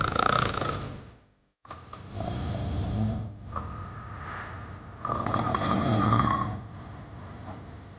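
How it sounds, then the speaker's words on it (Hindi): A sleeping child with damaged heart valves snores loudly in long, rough, rasping breaths, close up, with a brief quiet gap between them and no talking. "जिसे सोते समय तेज खर्राटे आते थे।"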